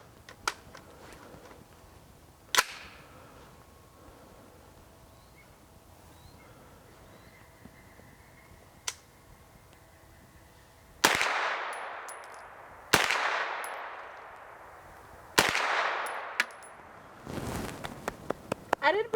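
Four loud Smith & Wesson gunshots at a shooting range, sharp cracks with ringing decay spaced a couple of seconds apart, following quieter faint clicks and handling noise.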